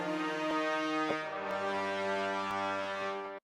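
A cinematic brass section from the free SonuScore Orchestra plugin plays a short, full, sustained chord with punchy accented hits on top, loud and dense, ending abruptly after a few seconds.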